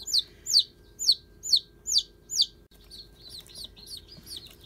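Week-old cockerel chicks, a run of six loud, evenly spaced high cheeps close by, followed by quicker, fainter peeping from the same bird.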